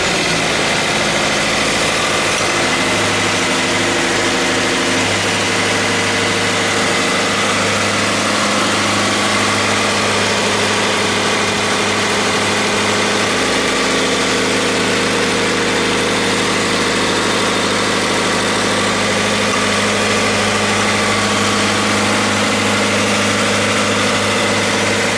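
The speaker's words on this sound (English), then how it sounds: "next step now is basically just to start up the engine" A Subaru BRZ engine idles steadily right after an oil cooler install, a continuous low mechanical hum with a constant, even drone held close and loud for the whole stretch, with no voices over it.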